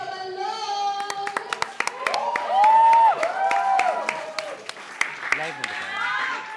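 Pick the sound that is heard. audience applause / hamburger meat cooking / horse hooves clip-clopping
audience applause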